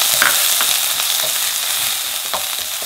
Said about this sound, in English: we're going to saute the ginger garlic